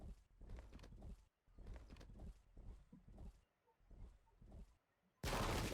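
Musket volleys in a Pike and Shot video game reenacting the 1643 Battle of Stratton, a string of rattling crackling bursts with short gaps, fairly faint, ending in a sudden loud wash of noise.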